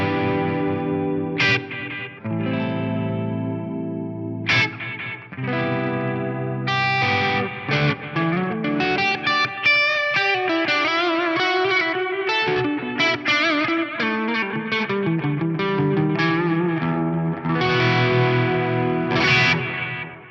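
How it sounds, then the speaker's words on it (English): Clean electric guitar notes from a Fractal FM3 ringing out through a spacious ambient delay, each phrase trailing into soft repeating echoes, played alone at a steady volume. "I'm going to turn on this ambient style delay here."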